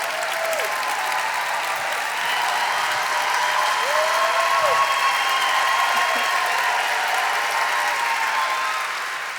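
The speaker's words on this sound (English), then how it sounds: "give her a round of applause" An audience gives a long, full round of applause for a mountaineer, a dense continuous roar of clapping with scattered whoops and cheers.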